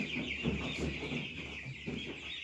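Cobb 500 broiler chickens in a coop, many birds clucking and murmuring together in a soft, steady chorus with a constant background hum, fairly close but not loud.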